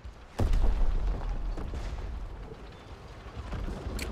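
Gunfire and explosions in the World War II shooter Call of Duty: WWII, a loud sharp blast followed by several scattered shots and booms over a rumbling battle background.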